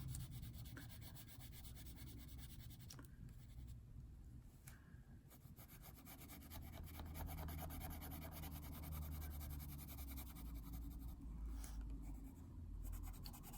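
A brown coloured pencil pressed hard and drawn repeatedly across paper, a steady scratchy rubbing that carries on through the clip with no talking.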